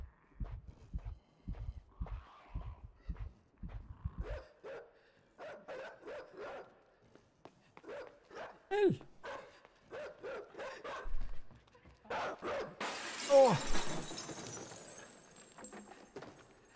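Dogs bark in the video game Inside, with a quick run of sharp barks at first, then scattered louder barks and yelps, ending in a noisy burst of commotion.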